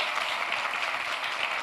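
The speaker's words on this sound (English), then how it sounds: "A huge round of applause, ladies and gentlemen." An audience at a fintech challenge semi-final event claps in a steady, dense round of applause, close and continuous throughout with no voices standing out.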